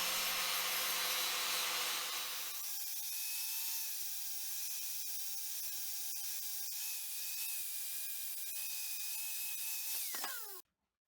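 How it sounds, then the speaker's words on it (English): An angle grinder with a flap disc works over steel welds, giving a steady, high, whining grind that holds for several seconds and then spins down sharply and stops, with no voices. "So, a little bit of grinding with the flap disc to make all those ugly welds disappear."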